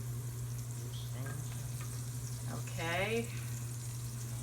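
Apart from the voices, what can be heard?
garlic frying at bottom of sauce pot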